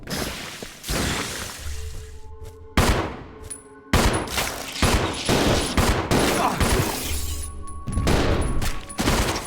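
Gunfire at a monster in Resident Evil 0 rings out as a series of loud, close, separate shots with sharp onsets and ringing tails, spread across the span with brief gaps between bursts.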